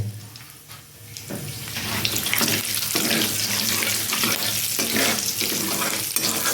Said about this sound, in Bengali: আর দিয়ে দেবো এখানে একটু পাঁচ ফোড়ন দিয়ে আমি একটা ভালো করে ভেজে নেব